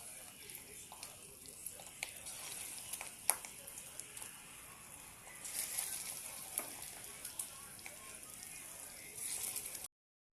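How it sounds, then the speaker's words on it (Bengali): Faint sizzling of fish egg fritters frying in hot oil, a steady quiet crackle with occasional sharper pops and brief surges. "তেল গরম হয়ে গেছে, আমি বড়াগুলি ভেজে নেব।"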